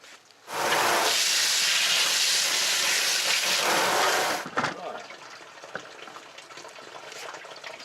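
Running tap water gushes steadily onto a freshly cleaned bass at close range, rinsing out the blood pocket, then cuts off, leaving faint handling noises and low background sounds.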